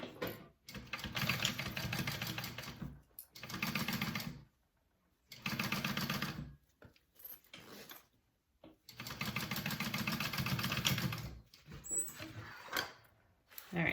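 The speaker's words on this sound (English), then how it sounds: "I'm just going to baste that on to make sure it stays in place" A sewing machine bastes lining onto a handbag in repeated runs, bursts of rapid close stitching whir separated by short pauses, with a person speaking briefly between runs.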